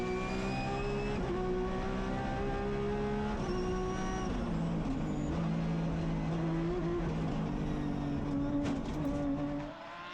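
A Porsche 997 rally car on a Belgian championship stage keeps up a constant, loud engine note from inside the car, its pitch sweeping up and down through gear changes as it accelerates and brakes, with no talk.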